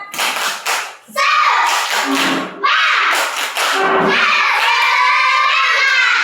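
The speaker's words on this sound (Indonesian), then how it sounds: "Oke, tepuk semangat." Children performing a rhythmic spirit clap in a group, sharp unison claps in patterned bursts mixed with children's voices chanting and shouting along, loud and close.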